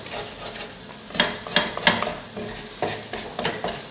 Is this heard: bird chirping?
no